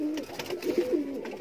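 Borderwale pigeons in a loft coo softly in a short run of low, rolling calls, near and alone.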